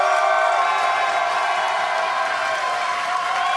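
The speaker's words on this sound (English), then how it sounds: "Let's hear some energy from the crowd." A large crowd cheers and applauds at a chess match, a steady broadband roar of clapping and voices that stays loud and unbroken from start to finish.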